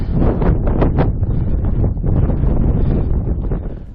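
Strong wind on a high mountain pass in Colorado's Maroon Bells area buffets the microphone in loud, continuous gusty rumbling, with rough surges throughout and no voices.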